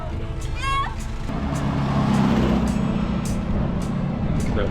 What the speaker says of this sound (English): It's a big fucking truck filled of bedliners or sofa beds.